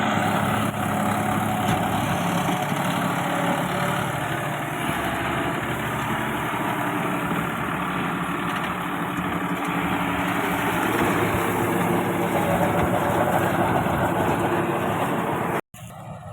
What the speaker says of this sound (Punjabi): ਟਰੈਕਟਰ ਸਾਹਿਬ ਕਣਕ ਬੀਜ ਰਹੇ ਨੇ